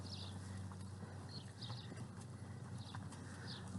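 Horse hooves clip-clop at a steady walk on the ground of an outdoor riding arena, faint and distant beneath a constant low hum of wind or background noise.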